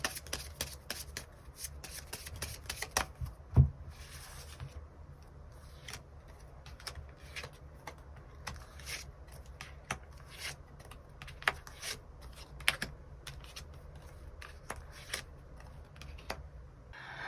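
Tarot cards are shuffled and drawn close by, making a continuous soft riffling and rubbing broken by occasional sharper snaps, with no talk.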